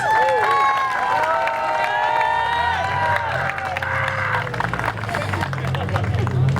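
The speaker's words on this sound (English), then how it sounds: "Please let's give him a loud round of applause." Crowd applause at a Palestinian flag raising outside Clifton City Hall, a loud, steady wash of clapping mixed with cheers and voices that keeps going for several seconds.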